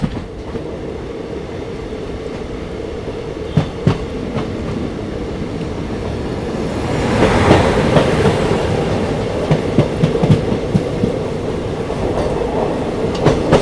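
A passenger train on the Bangalore to Murdeshwar route rumbles steadily along the rails, wheels clicking in irregular clacks over joints, the roar swelling louder midway through, heard from inside.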